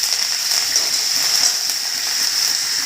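Curry leaves dropped into hot oil with crackling mustard seeds sizzle in an Indian kadhi pan, a steady close hiss with fine spattering crackle throughout and no talking.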